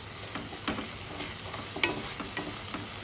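Tomatoes frying on a medium flame for rajma butter masala give a faint, continuous sizzle with light scraping from stirring and one brief sharper clack.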